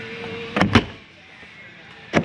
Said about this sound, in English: lock and deadbolt your exterior door.